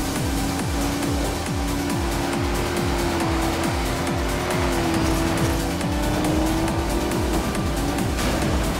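Maserati GT MC Stradale racing in NFS Most Wanted (2012), a loud continuous engine drone with shifting pitch and repeated tire squeals and skids, close and sustained throughout.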